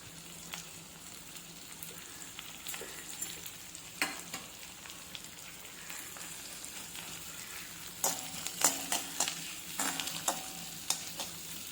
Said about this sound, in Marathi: तसेच घालते आहे बारीक चिरलेला कांदा.